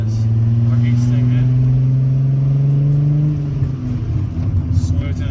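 VR6-engined car pulling hard through the gears, a loud droning engine note climbing in pitch, dropping briefly at a shift, then rumbling on with road noise.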